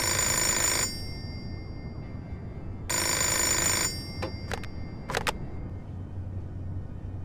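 A telephone rings twice in the video game Fahrenheit, two loud, bright bursts of electronic ringing separated by a pause, followed by a few short clicks.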